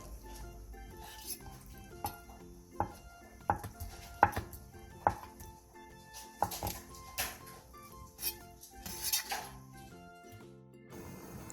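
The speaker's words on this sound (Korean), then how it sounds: "두부 조금도 먹기 좋은 크기로 큼직하게 잘라주세요." A knife cuts tofu into large chunks on a cutting board, a dozen or so irregular soft knocks spaced through the quiet kitchen, close by.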